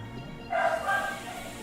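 A dog gives a single short bark, fairly close and clear against a quiet room background.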